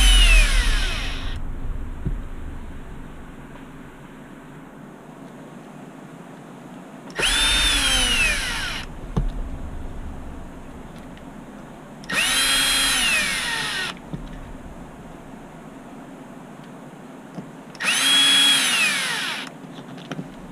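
A power drill drives screws into a plastic HB Racing D817V2 RC car kit, whirring in four separate bursts of a second or two each, loud and close, with quiet pauses between runs.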